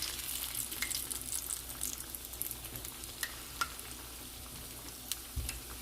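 Plantains fry in hot oil in a pan on the stove, giving a steady, close crackling sizzle with scattered sharper pops and an occasional stir, no voices.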